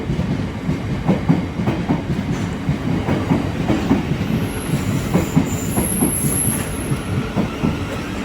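Thameslink Class 700 unit 700 013 pulling into a London terminus, a steady close rumble of wheels with rhythmic rail clicks and a brief high wheel squeal toward the end.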